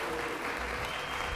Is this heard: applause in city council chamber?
yes